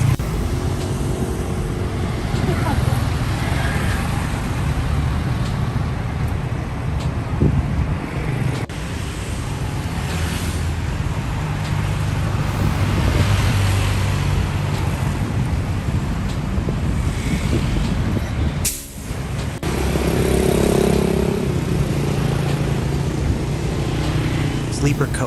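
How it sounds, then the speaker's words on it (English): A long-distance coach bus drives along at speed, giving a steady low road rumble with broadband wind and traffic noise that stays constant throughout, briefly dipping near the end before resuming. "Coach, the classic long-distance bus."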